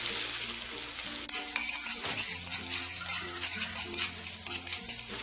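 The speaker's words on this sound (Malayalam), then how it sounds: "ഇനി ഇതിലേക്ക് ചതച്ച് വെച്ചിരിക്കുന്ന വെളുത്തുള്ളി ഇട്ട് കൊടുക്കാം." Crushed garlic dropped into about three tablespoons of hot oil sizzles and spatters steadily, with a brief clatter of a pan and stirring partway through; no voices.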